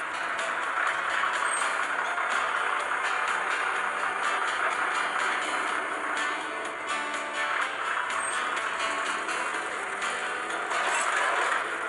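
Animated garbage truck mechanically lifting and emptying a bin in a Bob the Builder cartoon, a continuous loud whirring and grinding of hydraulics and gears with clanks and a faint beeping, no talk.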